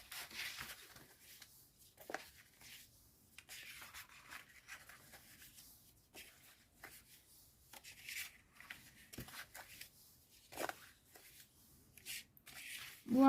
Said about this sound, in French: Donc ensuite, on fait tous les plis de marquage.